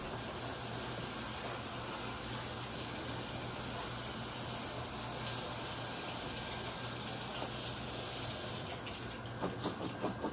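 Green beans are rinsed under a steady stream of tap water in a kitchen, a constant close splashing gush that runs without a break, with a few louder splashes and drips near the end.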